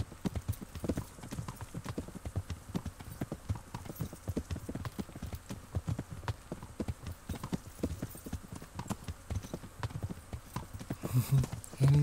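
Armored horse in Kingdom Come Deliverance clip-clopping along at a steady walk, a long run of crisp hoof strikes at moderate volume with a brief low snort near the end.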